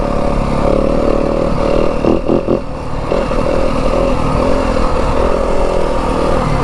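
A 2025 Yamaha WR250F dirt bike engine revs hard and steady while riding, a loud, close, continuous buzzing drone that dips briefly midway before pulling strongly again.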